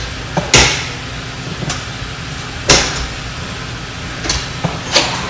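Sharp metallic clicks from a walk-in oven door latch at a Walmart, a few separate snaps spaced a second or two apart over a steady low hum of background air.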